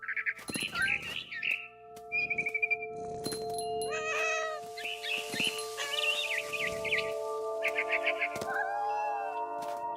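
Several cat meows and yowls from a video game repeat over a steady background tone, mixed with chirpy game sound effects, fairly close and varied in pitch.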